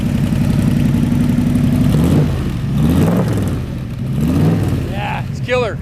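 A 1965 Shelby 427 S/C Cobra V8 runs loudly through its side pipes, idling with a throbbing rumble and rising in a few revving swells, while a voice is heard over it.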